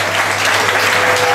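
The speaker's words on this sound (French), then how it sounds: "Veuillez applaudir monsieur Eli." An audience applauds steadily and loudly at a dedication ceremony for a restored Bible, a dense, continuous wash of clapping that fills the short moment without pause.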